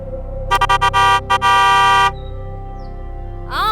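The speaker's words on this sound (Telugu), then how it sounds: "ఓ హారన్ కొడితే ఎలా" A car horn blares in a series of short honks, then one long sustained blast, loud and close, followed by quiet background.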